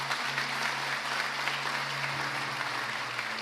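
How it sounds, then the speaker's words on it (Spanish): A church congregation claps together in sustained, dense applause, while a low steady tone from musical accompaniment hums underneath. "Dele un aplauso al Señor por eso."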